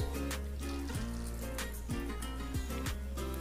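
Soaked boondi lifted out of water for raita gives soft, close splashing and dripping, with several small watery sloshes in an irregular rhythm at low volume.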